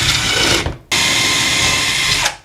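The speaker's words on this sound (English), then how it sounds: "Drill a little pilot hole here." A power drill drilling a pilot hole whirs loudly at high speed, stops abruptly for a moment, then spins up again in a second sustained burst.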